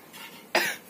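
One short, sharp cough sounds close by in a quiet home kitchen, preceded by a faint breathy sound.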